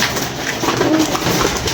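Pigeons kept by a fancier cooing softly at close range, a low murmuring coo rising briefly near the middle over steady background noise, with no talk.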